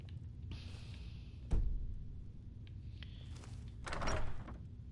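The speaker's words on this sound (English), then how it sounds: "someone would actually come to the sound of opening and closing doors" Doors in the Skyrim Dragonborn DLC open and close, with one heavy wooden thunk followed later by a creaking, sliding swing, heard fairly faint over a steady low hum.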